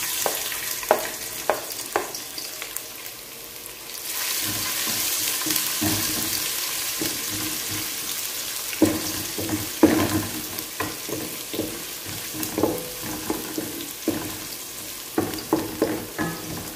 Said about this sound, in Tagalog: So, gigisa po muna natin siya sa luya, bawang, at sibuyas